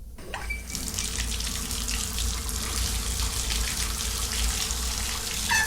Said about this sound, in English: the sound of water rang out again, this time louder than before.